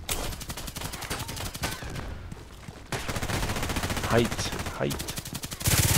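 Machine gun fire in the shooter game Contract Wars, rapid bursts of automatic shots in long strings with a short pause in the middle and a final burst, loud and close, with a brief spoken word in between.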